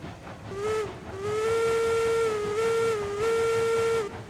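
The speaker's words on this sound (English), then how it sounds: "I love that whistle." A steam locomotive whistle in a video game sounds loud and close, a short toot followed by a long, steady blast with a slight dip in pitch.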